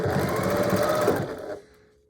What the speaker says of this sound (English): we're going to back stitch off the corner and then keep going